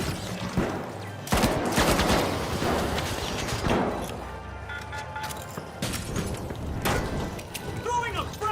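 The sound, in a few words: gunfire from the video game The Finals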